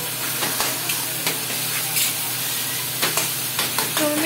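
Eggplant frying in a hot pan for baingan bharta, a dense continuous sizzle close up with scattered scraping stirs and clicks of the spatula, no talking.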